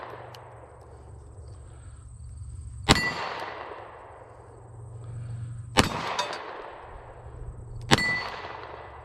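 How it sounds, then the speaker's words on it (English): Three sharp gunshots from a Beretta 92 pistol fired one-handed, spaced a few seconds apart, each a loud crack with a metallic ringing decay over a steady low background hum. "We'll just do some one-handed shooting here first."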